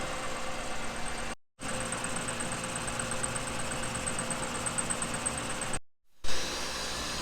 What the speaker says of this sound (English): I've got the fly cutter in here and we're making our pass.